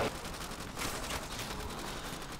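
Gunfire in a custom zombies video game map set at a desert shack rattles in quick, continuous bursts. It sounds fairly faint and compressed behind the game mix, with no voices heard.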